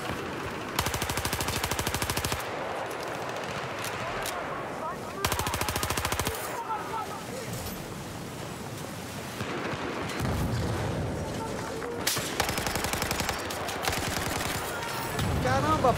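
Automatic weapon fire in the video game Battlefield 4's Gun Master mode, loud repeated bursts of rapid shots separated by brief lulls, with game ambience and occasional impacts between them.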